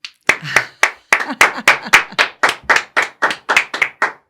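A small studio audience at a podcast recording claps in a sparse, rhythmic series of about fifteen close, sharp hand claps spread evenly over several seconds, with no talk over them.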